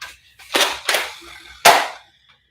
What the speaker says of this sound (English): I'll fire off some warning shots